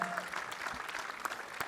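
An audience at a transport awards ceremony claps steadily, a dense, even patter of applause throughout, fairly faint and distant.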